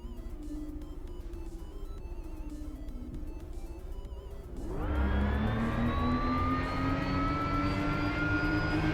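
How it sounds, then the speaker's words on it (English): A race car's flat-six engine drones at a steady hum, then revs up sharply about halfway and holds a louder rising whine with a turbo-like tone through to the end. "Is that the turbo, or is the engine just making that sound?"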